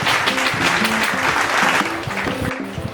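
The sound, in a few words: classroom applause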